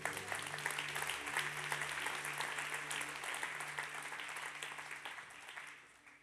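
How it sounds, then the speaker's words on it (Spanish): A church congregation breaks into sustained applause while a low organ or keyboard chord hums underneath, and the clapping fades out toward the end. "Dele un aplauso a Jesús."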